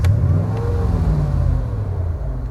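A Mercedes-Benz SL500 V8 catching with a sharp start, then settling into a deep, loud rumbling idle close by.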